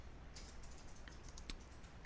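Typing on a computer keyboard while entering address details into a web form, with a few quiet scattered key clicks over low background noise and a slightly sharper tap near the end.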